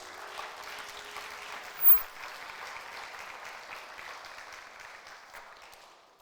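Church congregation applauding and cheering for Jesus during a French-language sermon, a steady wash of clapping from a crowd that holds for several seconds and slowly tapers off.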